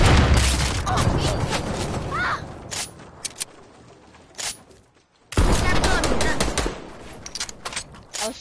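Video game gunfire sounds in bursts of rapid shots and booming blasts, loud and close, with a quieter lull in the middle before the firing resumes strongly.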